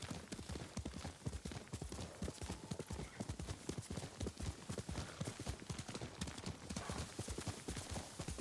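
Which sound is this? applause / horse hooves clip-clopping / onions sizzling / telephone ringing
horse hooves clip-clopping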